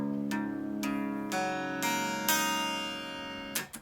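Open strings on an electric guitar in a drop tuning are plucked one after another, about six notes stacking into a ringing chord that sustains and fades, followed by a brief muted scrape at the end, close and alone.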